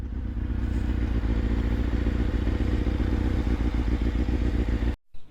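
A motorcycle engine runs steadily and loudly up close, with rhythmic clattering as it is shifted into first gear, then cuts off abruptly near the end.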